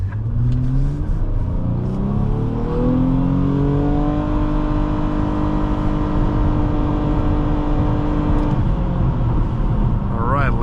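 A 2011 Nissan Maxima SV accelerates hard from a standstill to 60 mph, its engine revving up through rising gear pulls with a brief drop at a shift, loud and close from inside the cabin.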